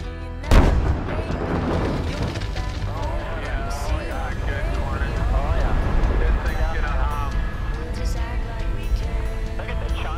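Guns fire a single sharp, loud shot near the start, followed by a steady background rumble while people talk over it for the rest of the stretch.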